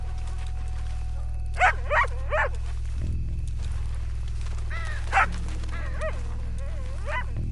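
A dog barks repeatedly in a PS4 video game, sharp yelping barks in short bursts over a steady low electronic hum, fairly close and loud.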